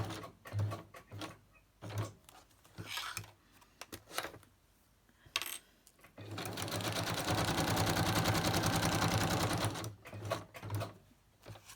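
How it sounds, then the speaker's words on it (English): A sewing machine stitches acetate onto an old envelope, first in short stop-start bursts of clattering, then a steady run of about four seconds, followed by more brief bursts. "So stitching down my acetate on the old envelope."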